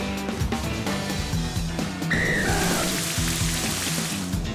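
Steady rain hiss from the Rain Dance move in the Pokemon Scarlet and Violet video game plays under game music, with a brief tonal chime partway through.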